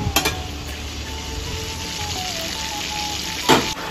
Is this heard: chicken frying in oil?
yes